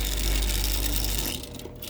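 A hobby paint shaker rattles a jar of paint with ball bearings inside, a steady close buzzing-rattle churning at constant intensity, then easing slightly softer toward the end.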